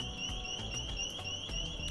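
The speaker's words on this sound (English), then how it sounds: "Wait, why is the alarm on? There's an alarm, bro." An electronic alarm rings continuously in an indoor space, a steady piercing high tone with rhythmic pulses and faint background noise beneath.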